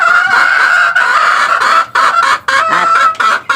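Chickens cluck loudly and close in rapid, repeated, nasal bursts with short pauses between calls, no voices present.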